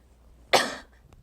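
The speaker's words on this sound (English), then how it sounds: "Coughing for me is a part of my daily life." A girl with cystic fibrosis gives a single sharp, close cough that tails off quickly, followed by a couple of faint clicks in otherwise quiet surroundings.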